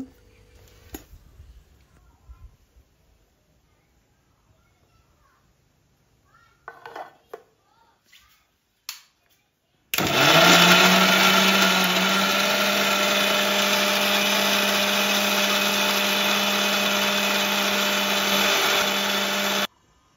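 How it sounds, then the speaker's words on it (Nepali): A blender grinds tomatoes for Nepali momo achar. A few quiet kitchen clinks come first, then a loud, steady motor whir runs for about ten seconds and cuts off abruptly. "अब चाहिँ मैले टमाटरलाई पिस्दै छु।"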